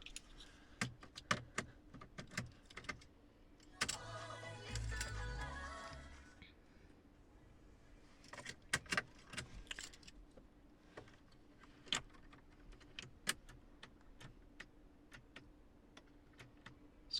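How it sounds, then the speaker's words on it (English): Inside a Mercedes-Benz C63 AMG 4.0 V8 BiTurbo, a car key is pulled out and inserted, making faint, sparse plastic and metal clicks and taps with a short rustling handling noise partway through, in an otherwise quiet cabin. "You can also take that out and put the key in,"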